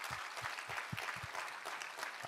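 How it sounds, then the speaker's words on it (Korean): A church congregation claps in praise, a dense, continuous roar of many hands with a few low rhythmic thumps underneath, filling the room for the whole moment. "우리 하나님께 감사와 영광의 박수 올려드리겠습니다"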